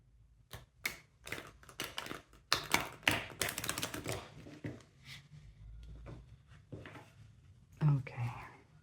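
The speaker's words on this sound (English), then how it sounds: "I'm going to shuffle like this in order to get reverse cards as well." Soft papery rustles and light taps of tarot cards being shuffled and handled up close, with quiet whispering mixed in.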